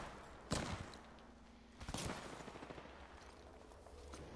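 Gunfire in a multiplayer shooter video game: two short, distant bursts of shots about a second and a half apart, faint against a low background hum.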